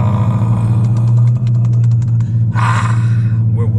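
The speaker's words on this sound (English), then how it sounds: "Quick little cold start before we get straight to the business." A Dodge Durango SUV engine cold-starts and settles into a loud, steady low idle rumble close by, with a brief rising rev-like swell near the end and no talk over it.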